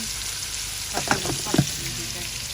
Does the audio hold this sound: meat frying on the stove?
yes